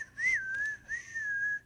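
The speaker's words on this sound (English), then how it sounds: "Yeah, he whistled." Someone whistles a short tune nearby in three clear, smoothly gliding phrases with brief gaps between them.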